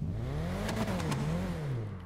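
Annis Elegy Retro sports car engine in GTA Online, revving up and down in two rising-and-falling sweeps, loud and close, with no talk.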